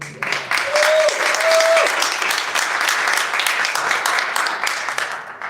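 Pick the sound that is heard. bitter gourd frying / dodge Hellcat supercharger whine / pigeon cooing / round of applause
round of applause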